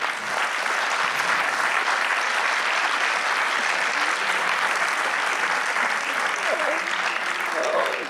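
Audience applauding at the close of a talk on international relations, sustained and even clapping from a large room that stays constant and fairly loud throughout, with no voices over it.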